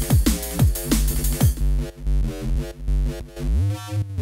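A synth bass line with bouncy, bubbly pitch glides loops under a steady electronic beat from a Roland MC-707/MC-101 groovebox; loud and close, with no voices.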